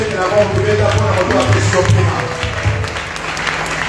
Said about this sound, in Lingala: Acclamons le Seigneur très très très fort